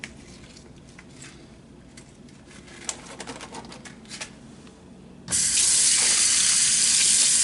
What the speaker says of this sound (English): Just rinse some of the salt off.